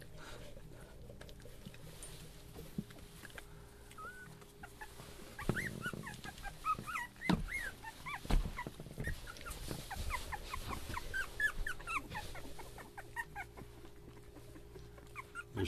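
A litter of 23-day-old puppies whimpering, yipping and squealing in faint, scattered bursts while they play, with soft rustling and low background hum and no talk.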